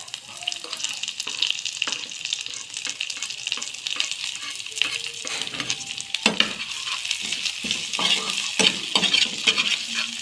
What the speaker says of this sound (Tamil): எல்லாமே நல்லா வதங்கிப்படட்டும்